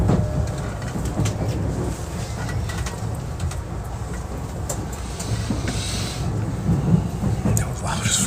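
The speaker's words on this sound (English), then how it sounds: "That's the new Tobu. Hey, that's the new train. Look at that. Urban Park Line." A new Tobu Urban Park Line train passes close by in Tokyo, a loud continuous rumble and rattle with clattering wheel noise and hissing that lasts the whole stretch, with voices faintly underneath.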